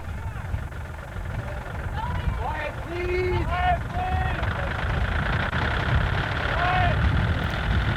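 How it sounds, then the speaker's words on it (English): A tractor engine runs steadily as the power source for a film special-effects rig, a low continuous rumble under nearby voices and crowd chatter throughout. "that engine you hear is coming from this tractor"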